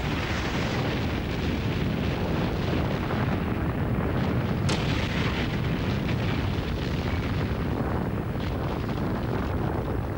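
A nuclear excavation blast, detonated with low-radiation explosives, produces a continuous, heavy roaring rumble that holds at a steady loudness for about ten seconds, dense and broadband with a brief sharper crack near the middle.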